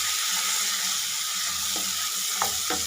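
Tomato sizzles and fries in a hot pan for lemon rice, a constant bright hiss with a few soft stirring knocks near the end.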